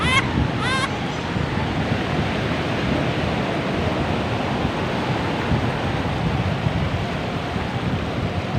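High ocean waves break on a rocky beach, a constant loud roar of surf with heavy wind buffeting the microphone and a brief high tone at the very start.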